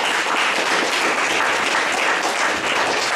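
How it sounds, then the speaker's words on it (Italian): An audience breaks into loud, sustained applause, a dense and even wash of clapping hands that holds steady for the whole stretch without talk. "Un applauso."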